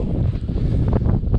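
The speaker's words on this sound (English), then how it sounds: "Sorry about the wind if it's windy in this video." Gusty wind buffets a microphone outdoors on a breezy day while piles of beans are being scraped up and loaded, a loud continuous low rumble that swells and dips throughout with no talk.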